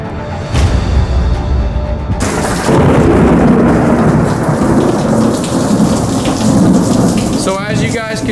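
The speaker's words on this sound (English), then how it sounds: "thunder is striking for real" Thunder cracks and rolls loudly during a heavy storm, with a sharp strike early on, then a long rumbling roll over steady pouring rain.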